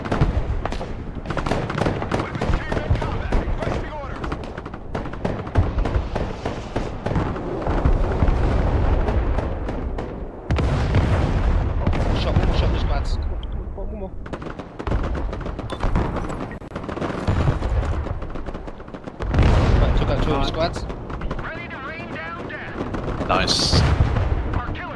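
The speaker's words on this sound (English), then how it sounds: "I'm gonna drop artillery on him." Artillery fire in Broken Arrow, a real-time war game, pounds nonstop with dense gunfire and repeated heavy blasts. The barrage stays loud for the whole stretch, with a voice speaking under it.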